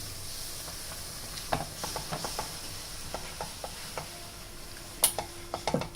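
Rice flour dough stirred in a pan over a low flame, with scattered scraping and tapping strokes and a faint sizzle underneath, close and quiet, no talk.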